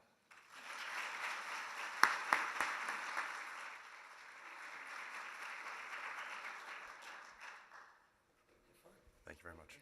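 An audience at a spring business conference for Missouri realtors applauds steadily for about eight seconds to welcome a speaker, then the clapping fades out, with a few sharp claps standing out early on.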